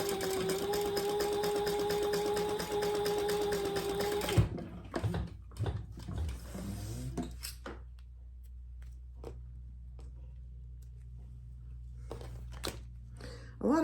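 A sewing machine stitches under the card slots of a purple purse wallet, a fast steady whirr for about four seconds that then stops, leaving quiet rustling, clicks and handling sounds.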